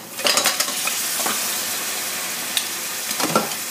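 Mussels tipped into a pan of simmering butter, garlic and kaffir lime leaves, giving a steady sizzle with a few sharp shell clatters and utensil scrapes, close up.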